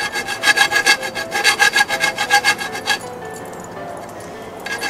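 Hand saw cutting through thin sheet metal ducting for a homemade bread box water heater: a rapid run of rhythmic rasping strokes for about three seconds, then stopping, leaving quiet room tone.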